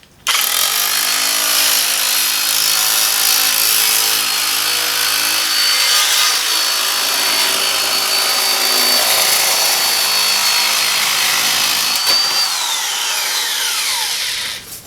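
Chicago Electric 18 gauge, 3.5 amp electric metal shear from Harbor Freight cutting a curved line through sheet metal, running as a loud, steady close-up motor whine and grinding chatter for about fourteen seconds before stopping.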